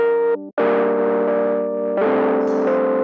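Heavily distorted synth tones run through a free VST distortion plugin: a buzzy, harmonically rich sustained note, a brief cutoff, then a louder gritty chord that shifts pitch midway, played alone at high level.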